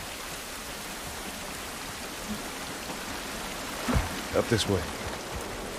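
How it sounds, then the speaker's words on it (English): Steady rain hisses through an outdoor scene in the video game The Last of Us, a constant even wash of falling water with brief spoken voices and a few short thumps near the end. "This rain ain't gonna do us any good."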